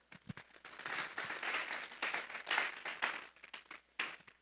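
Church congregation clapping during a sermon on Psalm 48, a quiet, scattered patter of hands with uneven bursts, fairly faint and somewhat distant, no talk over it.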